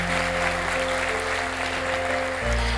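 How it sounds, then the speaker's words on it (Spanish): Audience applause at a leadership seminar, a steady wash of clapping that fills the room throughout, with a low hum underneath and a slight shift near the end. "Fuerte aplauso para nuestro diamante."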